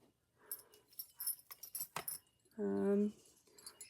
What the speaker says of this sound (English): Another little set of keys.